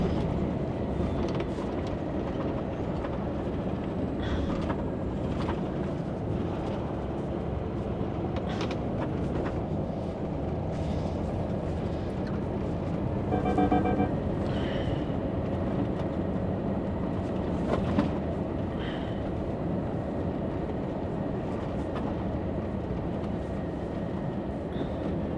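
A train braking while riding on board: a steady, loud rumble of wheels and carriage noise runs throughout, with brief metallic squeal tones rising briefly midway.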